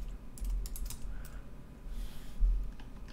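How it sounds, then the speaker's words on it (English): Keys clatter on a computer keyboard during software setup, with quick irregular taps close to the microphone over a low steady hum. "if I can type."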